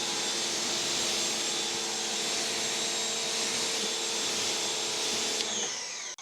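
A pressure washer from a high-flow setup of two Craftsman 1700 units sprays through an unsecured nozzle with a loud, continuous, rushing hiss that cuts off abruptly near the end.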